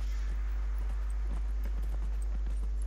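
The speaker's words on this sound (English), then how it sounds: "they decided to make a horse come in from the side out of nowhere" Steady clip-clop of horse hooves in the video game Dragon Age: Inquisition, over a loud constant low hum, the hoofbeats faint and rhythmic in the background.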